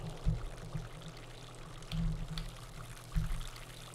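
Water pouring in a survival video game set in a forest, a steady soft stream with three heavier splashing surges spaced a second or so apart, faint and close.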